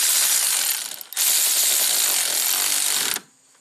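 A ratchet drives a bolt into a brake caliper on an old Audi Turbo, clicking fast and close for about three seconds, with one brief pause near the start.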